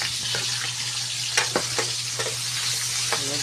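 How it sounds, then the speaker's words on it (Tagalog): Garlic sautés in a hot pan with a dense, steady sizzle, and a utensil stirring through it makes occasional scraping knocks, loud and close with no voices. "pagisa na ta sa ahos"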